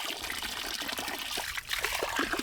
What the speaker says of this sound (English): now I'm going to drain the delivery pipe by opening this